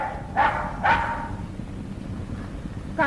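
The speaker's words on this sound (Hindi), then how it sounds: "कार्जन का नाम लेते ही मोती भूखने लगता है।" A dog barks in the jungle in an Indian Tarzan film, two sharp barks close together near the start and a third at the end, over a low rumbling background.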